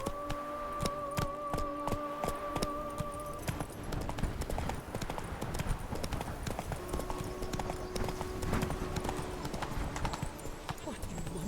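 Horse hooves clip-clop at a steady gallop in The Witcher 3 video game, a fast, continuous drumming of hoofbeats heard close with game music and ambience layered underneath.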